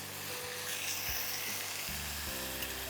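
Mutton with spices is sautéed in a pan for a radish mutton dish, a dense, continuous sizzle filling the short stretch with faint music underneath.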